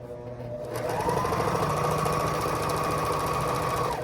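A sewing machine runs steadily while stitching to lock the thread on a machine-hemmed silk edge for a worship flag, its fast, even rattle close and loud for several seconds after a brief start.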